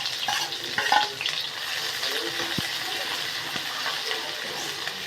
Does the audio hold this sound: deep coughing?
no